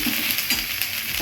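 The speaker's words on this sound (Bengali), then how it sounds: "এখন মশলাটা কষিয়ে নিই" Spice paste being fried and stirred together with meat in a pan, with a steady broadband sizzle and faint scraping strokes running under it for the whole short moment.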